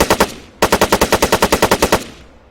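Automatic weapon fired in Arma 3: a short opening burst of three shots, a brief pause, then a longer sustained burst of about fourteen rapid evenly spaced loud shots, each ending in a short fading tail.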